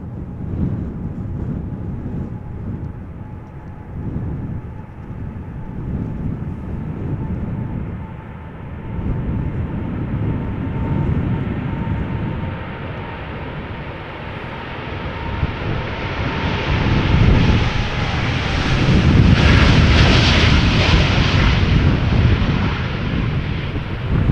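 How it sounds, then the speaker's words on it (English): A KLM Boeing 787-9 Dreamliner departs Amsterdam Schiphol for Bogota, its broad jet roar building steadily and peaking loud near the end, with wind buffeting the microphone throughout. "KLM flight 749 going to Bogota in Colombia. Boeing 787-9 Dreamliner."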